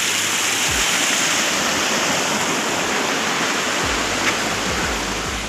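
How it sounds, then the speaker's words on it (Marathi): Water released from a dam rushes in a loud, steady, continuous roar close by, with nothing else breaking through. "आपले या या धरणाचं पाणी सोडलं खाली"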